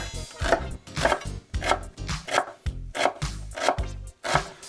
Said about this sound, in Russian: Для начала нарезаем репчатый лук.